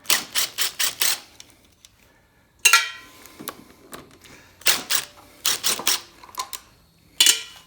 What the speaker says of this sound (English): I'm going to take the intake bolts off.